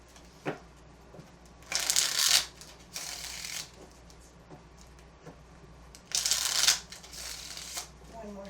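Two decks of tarot cards riffle-shuffled in several short bursts of crisp fluttering, each lasting about half a second to a second, with quiet gaps and soft talking between them.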